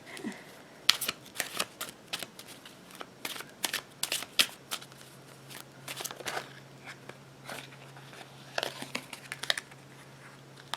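A deck of tarot cards being shuffled up close: crisp riffling flutters and card-edge snaps come in uneven bursts throughout, with brief pauses between them.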